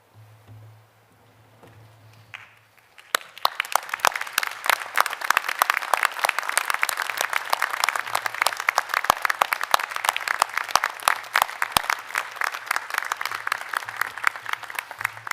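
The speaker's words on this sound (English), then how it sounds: "express your gratitude to those who have supported you with a round of applause" A quiet room hum for about three seconds, then a large graduation ceremony crowd breaks into loud, sustained applause that continues steadily to the end.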